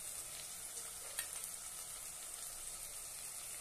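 Spices and salt with garam masala fry in a pan for black chickpea pulao, giving a steady, fairly faint hiss of sizzling oil throughout with one light scrape near the start and no voices.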